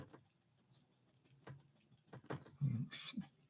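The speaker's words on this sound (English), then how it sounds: "we got birds chirping in the background now" Birds chirp outdoors in Southern California, with faint, scattered high chirps and a few soft thumps and rustles in an otherwise quiet space.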